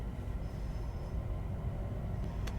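A Class 380 Desiro electric train pulls away on the upgraded Cathcart Circle line in Train Sim World, a low steady rumble of wheels and motors with a faint squeal near the end.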